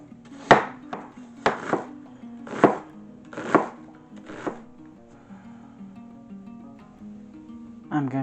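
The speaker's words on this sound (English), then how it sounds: "For this recipe, I am going to chop up some apple and an onion." A knife chops apple and onion on a board, giving five sharp, evenly spaced cuts that are loud and close, then a quieter stretch with soft handling sounds.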